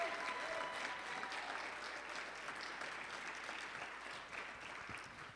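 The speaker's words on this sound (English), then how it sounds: "So let's just give another round of applause for Soul in Motion" Applause from a gathered crowd at a Martin Luther King Jr. Day celebration, honoring a performance group; the clapping starts fairly full, then slowly fades, staying soft and somewhat distant.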